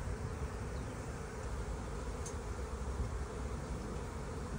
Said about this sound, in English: new life is coming to my apiary here on the first day of spring with the arrival of this gigantic swarm